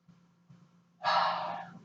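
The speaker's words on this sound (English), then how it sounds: "So we take a breath in." One sharp breath in through the mouth during an exercise class, close and clear, coming after two faint earlier breaths.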